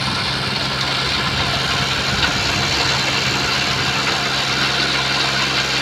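A tractor engine idles nearby, a steady loud low chugging drone with vibration that holds evenly throughout.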